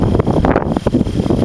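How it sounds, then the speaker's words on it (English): Strong gusty wind buffeting a microphone outdoors in a garden, loud rumbling bursts and rustle filling the whole stretch, close and continuous with no talking. "It's really windy today"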